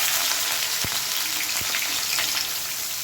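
Onions sizzle and fry steadily in hot oil with bay leaf, cardamom and cinnamon in a pan for an egg, peas and potato curry, a dense close crackle with a couple of soft knocks.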